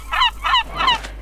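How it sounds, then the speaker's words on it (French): Seagulls in the Minecraft video game call three times in quick succession, bright, raspy honking squawks that are loud and close, with no speech. "Les mouettes, c'est des voleuses, comme dans la vraie vie."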